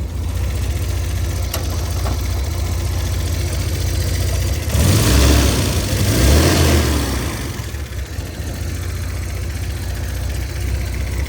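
A 1971 Volvo 1800E's fuel-injected engine idles in a steady, close drone, with a brief louder swell partway through before it settles back to an even idle.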